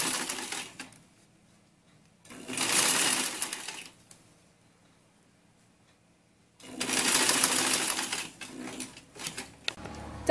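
A sewing machine stitches elastic onto a jumpsuit in two loud bursts, around 2.3–4 s and from 6.7 s onward, with near-silent pauses between them.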